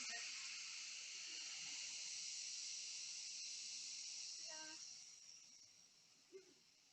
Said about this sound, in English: Steam is being released.